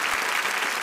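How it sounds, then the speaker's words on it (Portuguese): A brief burst of steady audience applause at a televised event, dense even clapping throughout with no talk over it. "Por favor, aplaudam a ele."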